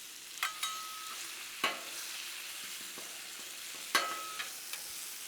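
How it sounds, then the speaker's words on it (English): Bacon fries slowly on a Blackstone griddle set to low, a faint steady sizzle broken by a few sharp pops and a scrape or two, with no talking. "let this bacon cook up. I got it on low because I want to cook the bacon low to render out a lot of that fat"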